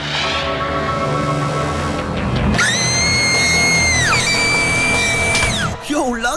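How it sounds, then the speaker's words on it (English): Screaming from a cartoon character, a long high wailing cry with rising and falling pitch held for several seconds over a busy animated soundtrack, loud and close. "what's with the screaming?"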